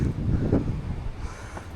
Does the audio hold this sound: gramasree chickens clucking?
no